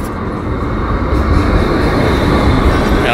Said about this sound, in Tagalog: So ito na pala yung tren na sasakyan natin.